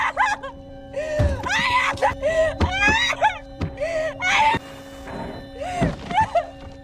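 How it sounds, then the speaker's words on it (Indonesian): A nun trapped inside a coffin screams and wails for help in a horror film scene, loud anguished cries broken by heavy thuds as she pounds the lid, with a low steady hum beneath. "Sontak saja ia berteriak meminta tolong,"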